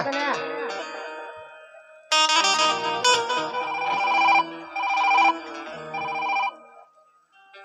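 A phone ringtone plays, a bright repeating melodic tune ringing in bursts close by, with no talking over it.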